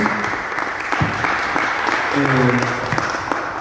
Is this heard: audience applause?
yes